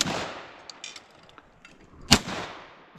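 Shotgun fired at a thrown clay target on an outdoor range, a single sharp close report midway with a short echoing decay and faint background noise before it.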